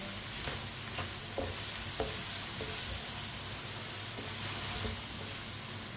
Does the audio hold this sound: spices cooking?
yes